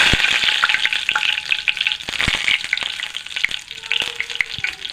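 Bay leaves and curry leaves fry in hot oil with cumin seeds for a fish-egg dish, giving a loud, close crackling sizzle with sharp pops. A utensil stirs and clinks in the pan.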